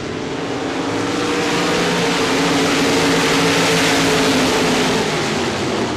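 RaceSaver sprint cars roar around a dirt track under green flag, a dense, continuous engine drone with layered harmonics holding steady and loud for the whole stretch, no voices on top.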